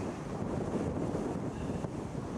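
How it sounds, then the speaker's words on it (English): Wind blowing across a landing field just after a skydive, a steady loud roar buffeting the microphone, broadband and rough with no voices. "Wind's picking up."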